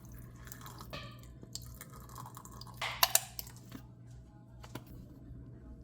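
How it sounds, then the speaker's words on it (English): A couple of big squirts of ketchup forced from a bottle while making smoky meat loaf: one short, wet, sputtering burst mid-clip, close and fairly quiet, with faint drips and rustles around it. "Couple big squirts of ketchup here."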